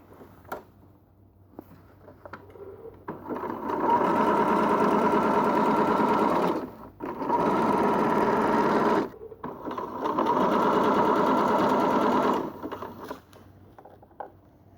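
A sewing machine stitches trouser fabric in two long, loud, steady runs of rapid mechanical whirring, separated by short pauses, with quieter handling sounds before and after.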